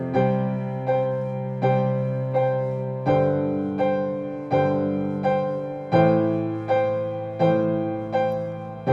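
A piano plays a steady, evenly paced sequence of notes and chords, each attack decaying before the next, with no voices present.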